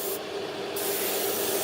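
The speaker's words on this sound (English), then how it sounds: "that's spraying all right" Airbrush spraying Vallejo primer, a steady close hiss of air and paint held without a break.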